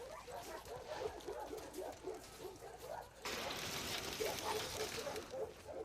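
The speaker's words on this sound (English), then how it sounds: "Hey, you crazy dog." Dog in The Last of Us Part II giving soft, excited whimpers and yips in a quiet indoor scene, faint and repeated over background ambience, with no clear full barks.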